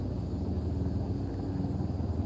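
Helicopter flying low overhead near a lake where someone is bass fishing, a deep rhythmic rotor thump and rumble, loud and steady with no talking.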